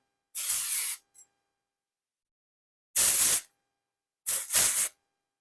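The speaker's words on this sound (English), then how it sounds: "Let's use some texture spray again. Just through our braid." A hair texture aerosol spray hisses in three short bursts over a braid, separated by silence, the last one broken into two quick pulses.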